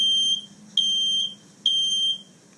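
A home fire alarm sounding indoors, three long piercing high-pitched beeps in a regular pattern with short pauses between, loud and close.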